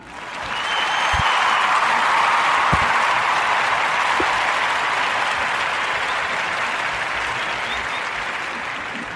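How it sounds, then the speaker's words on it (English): Podcast studio audience giving a round of applause, a broad, sustained roar of clapping that swells in quickly, holds strong for several seconds and eases off slightly toward the end. "give a Narrative Podcast round of applause for Mr. Marlon Wayans."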